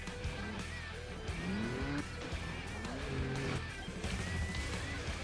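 Cars speed along a highway track in the video game Trials Evolution, a loud, continuous engine roar with rising revs, repeated whooshing passes and a few crash-like thuds.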